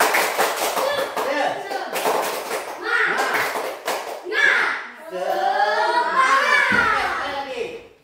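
Group of schoolchildren in a classroom perform a rhythmic clapping cheer, sharp hand claps in short patterned bursts mixed with children's voices talking and calling out nearby.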